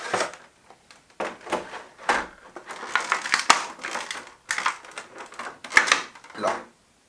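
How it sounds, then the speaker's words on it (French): Funko Pop figure's packaging being opened and unwrapped: a run of crinkly crunching and tearing bursts, close and fairly loud, with short pauses between handling sounds. "on va l'ouvrir, on va déballer ceci"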